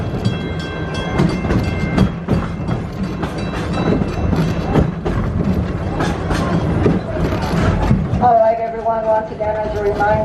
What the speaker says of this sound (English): Remain seated until the train comes to a complete stop